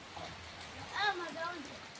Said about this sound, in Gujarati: જો વરસાદ ફૂલ આવે છે